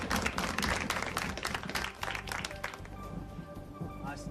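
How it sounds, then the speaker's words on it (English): An audience at a magic show claps energetically in a dense burst that thins and fades over a few seconds, with voices mixed in beneath it. "Let's give him a big round of applause,"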